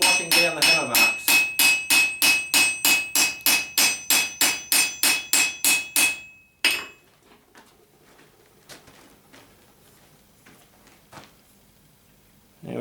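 About twenty sharp hammer blows ring out on forged steel, smoothing hammer marks, in a fast, even rhythm, each with a bright clang, followed by quieter shuffling and a few light taps.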